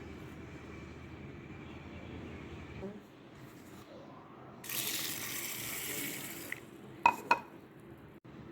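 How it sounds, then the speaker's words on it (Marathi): Urad dal is rinsed clean with water. A quiet background gives way to a couple of seconds of running, splashing water, followed by a few sharp clinks near the end. "आणि 2 पाण्याने मी स्वच्छ धुवून घेतलेली आहे डाळ"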